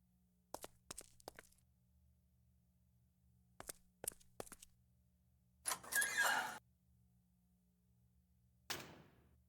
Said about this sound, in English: The way the door slowly opened is a phenomenal way to build up tension.